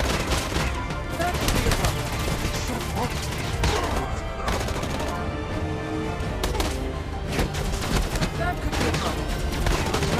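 Dense gunfire in Marvel Future Revolution crackles as a constant mix of rapid automatic bursts and impacts that holds at a steady loudness the whole way through, against busy game sounds.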